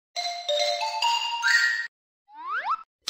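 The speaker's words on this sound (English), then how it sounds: "Xylophone." Clear, bright xylophone notes struck in a quick run of about five tones, ringing close and loud in a children's instrument-learning setting, followed by a short rising cartoon-like chirp.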